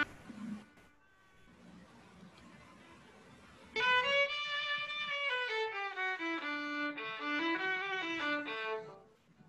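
A violin picked up by a microphone for acoustic instruments plays a bowed melody of sustained, gliding notes, close and clear after a brief quiet, murmuring start.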